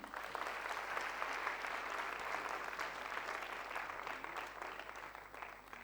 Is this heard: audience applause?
yes